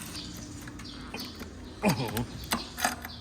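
Hand twisting a locked T50 M1 agricultural drone motor, producing a few short mechanical creaks and clicks with scraping texture, close and moderately loud over faint background hum, with a person speaking briefly.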